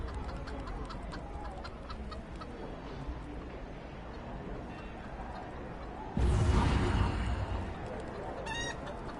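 Chicken clucking from a player character running around as a chicken during the April Fowls event in the Neverwinter video game, steady game sounds throughout with a louder burst of noise near the end.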